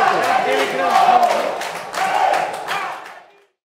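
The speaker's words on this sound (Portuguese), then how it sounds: "torcida grita, eu acredito!" A stadium football crowd in a Série B match between Confiança and Operário-PR chants in unison, two rhythmic swells of many voices with claps, fairly loud and close before fading out at the end.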